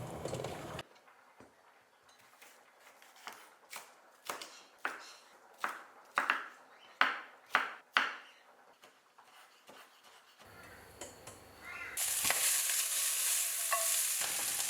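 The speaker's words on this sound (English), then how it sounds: "And toss it with ketchup, sausage, onions and capsicum, the classic Japanese Napolitan." Japanese Napolitan pasta gets stirred and tossed in a pan with ketchup, sausage, onions and capsicum, a run of sharp utensil clacks and scrapes against the pan over quiet sizzling, ending in louder steady frying hiss.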